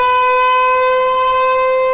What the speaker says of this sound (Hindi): जंगी सायरन भारत में बजेंगे